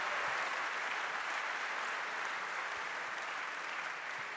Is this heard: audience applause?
yes